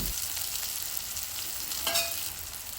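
Whole spices such as cardamom and cinnamon frying in a pan for egg khichuri, a steady close sizzle with a brief brighter flare near the end.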